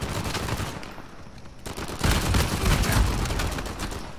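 Rapid gunfire from Uncharted 4: A Thief's End, a dense burst of repeated shots that swells louder midway and keeps hammering steadily to the end, with no voices over it.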